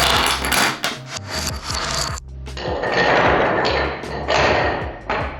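A SONIMOD line topples into a line of dominoes: a fast clattering cascade of small wooden-sounding taps and thuds, close and busy, with a brief pause before a second burst of clicking falls.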